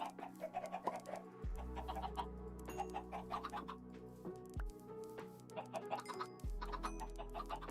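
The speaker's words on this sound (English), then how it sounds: "I think our chickens are pretty safe." Chickens cluck in short repeated bursts in a Minecraft-style game, set over a low sustained hum with a few deep tonal drops in the background.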